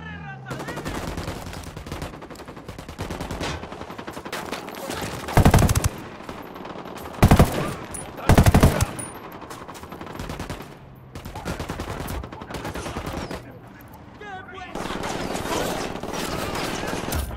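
Gunfire in Ghost Recon Wildlands: rapid automatic bursts rattle almost continuously, punctuated by three loud heavy blasts around five to nine seconds, with mechanical clatter between volleys.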